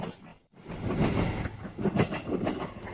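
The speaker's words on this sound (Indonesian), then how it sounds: "kereta yang tadi yang yang melintas dari arah barat menuju arah timur" A train on the reactivated Cibatu–Garut railway line in Indonesia rumbles past close by, a steady broadband roar with rhythmic clatter of wheels on rail joints, after a brief lull at the start, without any talking.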